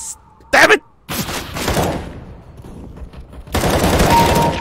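Gunfire in the game CS:GO, with short loud bursts of automatic fire and single shots heard up close, mixed with excited talking and shouting from players.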